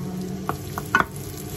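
White onion dropped into about a tablespoon of heated oil in a pan for yakisoba, with a soft sizzle and a few light stirring knocks over a quiet background.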